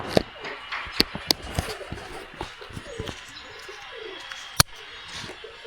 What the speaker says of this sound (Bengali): কবুতরগুলা ভাবছে খাবার দিতে আসছি আমরা, এত শব্দ করতেছে আমরা আসার পর থেকে।